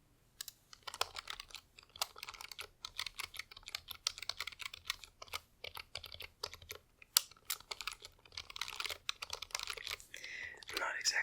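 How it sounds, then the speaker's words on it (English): Close, crisp typing on a computer keyboard, uneven bursts of key presses and clacks with scattered soft rustling, recorded intimately in a quiet room. "I have a keyboard hidden away back here. So I'll just bring that out, and we will just do some typing for a moment."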